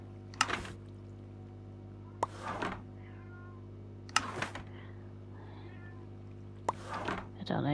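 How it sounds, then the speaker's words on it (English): A pet cat meows several times in separate short cries at a moderate distance, with a steady low hum continuing underneath throughout. "I don't know if you guys can hear the cat. She is meowing."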